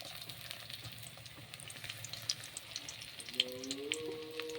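Crushed and chopped garlic fries in oil in a wok, a faint, soft sizzle with light crackles and pops throughout.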